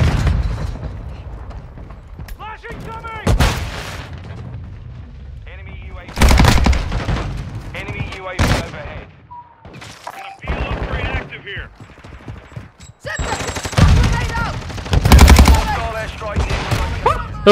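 Bursts of automatic and single gunfire in Call of Duty multiplayer, loud sharp shots in clusters and sporadic volleys, with a player talking over and between them.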